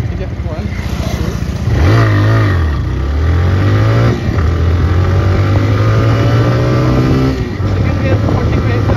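A TVS Raider 125 disc-variant motorcycle engine revs hard toward about 6,500 rpm, its pitch sweeping up and down, then climbing steadily in a long loud pull, close by.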